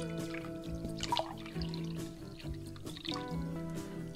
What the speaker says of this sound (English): now I'm going to add the liquid.